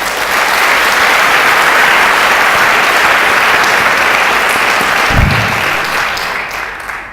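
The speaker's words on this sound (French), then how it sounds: "que nous applaudissons" Sustained, loud audience applause at a heritage conference, dense and continuous, tapering slightly toward the end.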